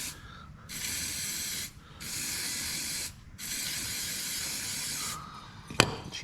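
Lubricant sprays from an aerosol can near a vehicle shock absorber in three long hissing bursts separated by brief pauses, followed by a single sharp click at the end.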